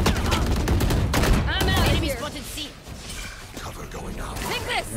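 Classic pistol fire in Valorant mixed with other game weapon shots, a dense burst of sharp cracks and impacts that thins into scattered effects, with a player talking over it.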